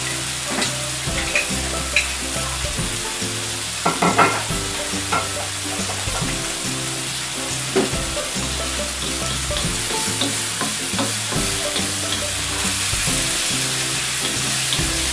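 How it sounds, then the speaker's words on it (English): Wine reducing in a hot pan for a tomato concasse pasta sauce, a steady close sizzle and bubbling with scattered clinks and scrapes of stirring throughout, no talking. "reduce the wine to half of its volume"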